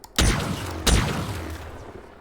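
Heat Wave shotgun firing in Halo Infinite: two loud, booming blasts about 0.7 seconds apart, each with a sharp attack and a rumbling tail that fades slowly.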